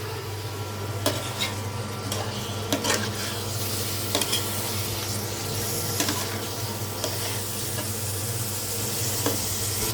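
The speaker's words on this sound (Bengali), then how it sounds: "এই যে দেখেন মাংস একদম ভাজা ভাজার মতো করে কষাই নিলাম ভালো করে" Pigeon meat sizzles and fries in a pan while being stirred, with steady frying hiss and occasional sharp scrapes and clinks of a utensil against the pan, close and continuous.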